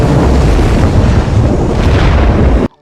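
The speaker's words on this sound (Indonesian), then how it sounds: "bom yang dipasang pada bangkai pesawat pun meledak." A loud, roaring explosion of a bomb planted on an aircraft wreck rumbles continuously for nearly three seconds, then cuts off abruptly.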